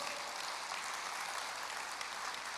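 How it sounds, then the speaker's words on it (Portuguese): A church congregation claps steadily together in sustained applause, a broad even wash of hand claps with no pauses and no talking over it. "Vamos aplaudir ao Senhor."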